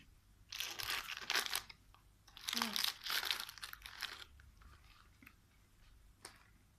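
Crunchy food is chewed during a blind taste test, with two loud bursts of crisp crunching and crinkling close up, then quieter, sparser chewing trailing off.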